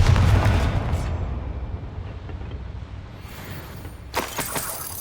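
A Confringo fire spell explodes in Hogwarts Legacy: a loud, deep boom opens the moment and rumbles away over a few seconds, followed by a sharper burst of crackling impact near the end.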